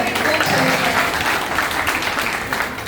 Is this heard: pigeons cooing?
no